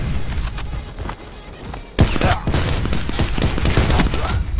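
Rapid bursts of gunfire in Black Ops 4 gun game mode, loud and near, with dense overlapping shots and a heavy blast partway through.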